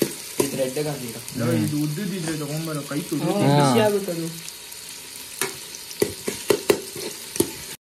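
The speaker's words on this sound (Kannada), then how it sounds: "ಇದು ಫುಲ್ ಸ್ವಲ್ಪ ಫ್ರೈ ಆಗಬೇಕಲ್ಲ" Biryani masala fries in a pot while someone talks over it, then a short stretch of sizzling broken by sharp spoon knocks and scraping against the metal.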